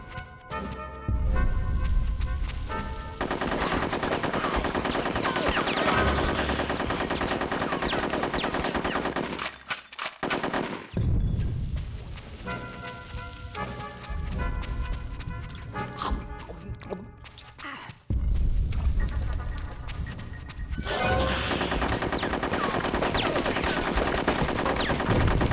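Rapid gunfire from the video game Conker's Bad Fur Day, dense loud bursts with crashes and impacts running almost continuously, briefly dropping off near the middle before resuming.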